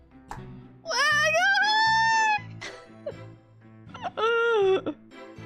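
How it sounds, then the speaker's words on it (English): A cat gives two long, loud, wailing meows with a short quieter gap between them, close by, with brief voices in the gaps. "The cat."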